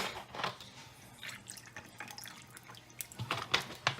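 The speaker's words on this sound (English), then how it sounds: "we're gonna mix it with a little bit of Coke" Coke pours into a shot of Crown whisky, a soft liquid trickle with small splashes and drips at close range.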